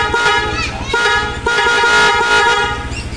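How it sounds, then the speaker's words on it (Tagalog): Loud aftermarket horn on a Honda ADV 160 scooter blares in several long, harmonically rich honks close up, with brief gaps between bursts and voices talking over it. "Loud horn."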